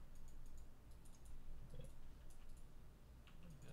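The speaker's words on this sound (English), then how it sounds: "now you're smashing my keyboard" A computer keyboard being typed on hard, with quick irregular clicks and clacks in short bursts over a low steady hum, fairly quiet and close.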